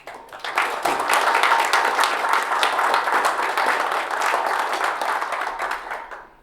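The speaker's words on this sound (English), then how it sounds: "we'll give him a round of applause" A meeting audience bursts into applause at an annual general meeting, building quickly to a full, even wash of clapping that holds steady before tapering off at the end.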